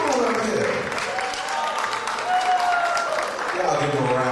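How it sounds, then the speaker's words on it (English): A church audience claps in a dense round of applause lasting a few seconds, with voices talking and calling out over it. "Y'all give him a round of applause."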